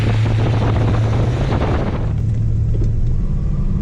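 A 1968 Dodge Super Bee with a TorqueFlight automatic pulling away in first gear, its V8 engine a loud, continuous rumbling roar with strong low-end drone, easing slightly partway through.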